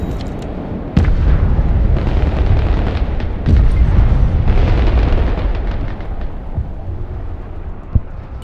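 Missile strikes exploding in the Broken Arrow strategy game, a loud rolling barrage of deep booms and rumbling blasts with a few sharp impacts, continuous for several seconds.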